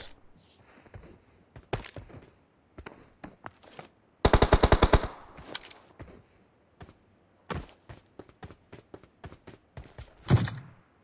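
Gunfire in the mobile battle-royale game PUBG Mobile: scattered single shots through the clip, then a tight rapid burst of automatic fire near the middle and a louder blast toward the end, with no talk over it.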